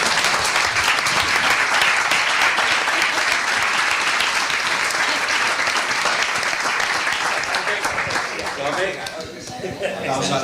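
Sustained, dense applause from an audience at a book presentation, loud and steady for several seconds before thinning out toward the end.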